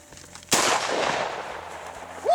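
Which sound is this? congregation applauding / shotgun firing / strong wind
shotgun firing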